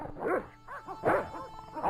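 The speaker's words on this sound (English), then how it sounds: "What if you could hide from the gardener when he investigates the barking of the dogs?" Dogs in Broken Sword: Shadow of the Templars give a quick run of four or five barks, close and clear, with short gaps between them.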